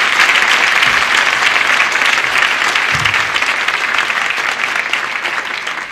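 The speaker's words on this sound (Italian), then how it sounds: "Un applauso per chi lo conosce" A studio audience on a 1969 Italian television variety show applauds, with dense, sustained clapping that fills the whole stretch and tapers slightly at the end.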